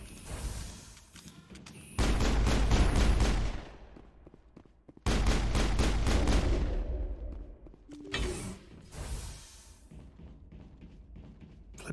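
Turrets open fire in the Mass Effect video game during planetary exploration, with two loud sustained bursts of rapid gunfire and a shorter third volley, separated by quieter lulls.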